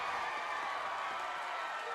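A stadium crowd at a women's A-League football match roars, a broad, sustained wash of cheering and clapping at steady loudness.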